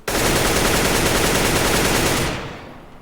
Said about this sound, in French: Voilà le pattern de recul de la K47